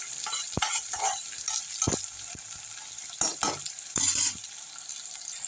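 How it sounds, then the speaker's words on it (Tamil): Tomatoes sautéing in a pan for Iyer-style paruppu vatha kuzhambu, a soft continuous sizzle broken by several sharp spoon scrapes and clinks as they are stirred, close up with no speech. "தக்காளியும் சேர்ந்து நல்லா வதங்கிட்டோம்"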